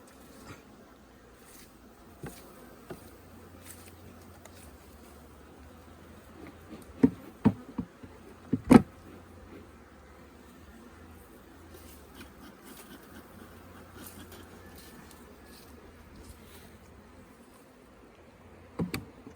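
Honey bees buzz steadily around an open hive during a March honey harvest, a low continuous drone with a few sharp knocks and clicks midway, no talking.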